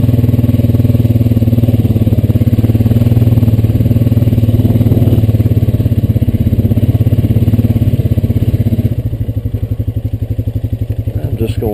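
Honda Rancher 420AT ATV engine running loud and close on a land trail, a steady throbbing drone that eases and softens toward the end, with a voice talking over it.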